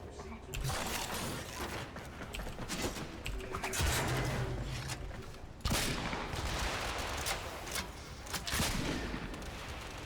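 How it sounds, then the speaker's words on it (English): Heavy cannon fire in the Warframe shooter game, a dense run of loud booming shots and bursts through much of the stretch with faint talk mixed in. "I still do like this cannon, even at this level."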